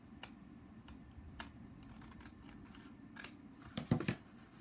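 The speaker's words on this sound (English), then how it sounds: "I'm just going to snip this part off because I don't need it" Sharp snips of scissors cutting off a strip of card paper while making a greeting card, spaced clicks through a quiet room, then a louder close cluster of cuts near the end.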